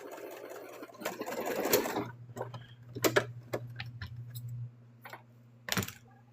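A sewing machine stitches a mushroom slug plush in short bursts, the motor humming close by between soft ticks and clicks, with quieter pauses between runs.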